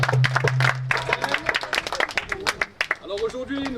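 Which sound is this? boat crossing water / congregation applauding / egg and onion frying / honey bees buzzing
congregation applauding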